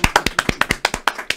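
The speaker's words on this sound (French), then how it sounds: "On peut l'applaudir, cela dit," Applause for a contestant named Brandon on a French quiz show, heard as a close, rapid, regular run of about a dozen crisp claps, like a single person or small group clapping.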